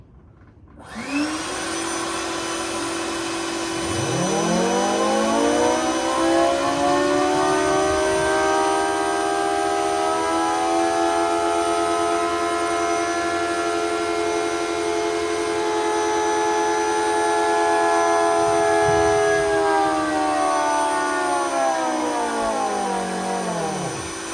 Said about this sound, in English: Put the blower on.